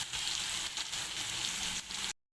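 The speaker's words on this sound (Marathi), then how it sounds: "कांदा छान परतून घ्यायचा" Finely hand-chopped onion fries in hot oil with cumin for a paneer tadka, giving a steady, close, broadband sizzle that holds evenly throughout before cutting off abruptly.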